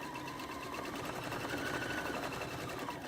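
A sewing machine runs steadily while stitching fabric for a patchwork pin cushion, giving a continuous close-up mechanical whir with no pauses or talking.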